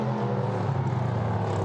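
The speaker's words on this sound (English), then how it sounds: "We listen to the growl of the Nissan engine." Nissan-powered prototype race car at the Norisring street circuit during a Prototype Cup Germany race, its engine growling loud and steady with a continuous low harmonic drone, held close and alone without talk.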